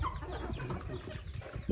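Chickens on a small farm cluck and murmur close by, short throaty calls overlapping in a loose, irregular rhythm, moderately quiet with some bird chatter mixed in.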